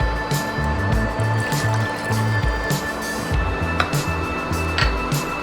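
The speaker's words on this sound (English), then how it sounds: "Now add 1 cup of water to it." A cup of water is poured into a pan of Goan mackerel fish curry with salt and kokum, a loud, continuous splashing pour that lasts several seconds over a steady background hum.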